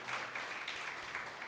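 Church congregation clapping together during a Sunday service at Aenon Church, Moula-ali: a short, steady wash of hands applauding at a moderate distance, fairly quiet and even throughout, with no voices standing out.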